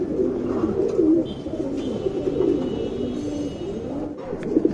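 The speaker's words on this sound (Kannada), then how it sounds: "ಟಾಪ್ ಕ್ಲಾಸ್ ಹಕ್ಕಿ ಇದು." A male pet pigeon of a prized fancy breed coos in low, throaty, rolling phrases, repeated steadily and heard up close with a faint room hiss behind.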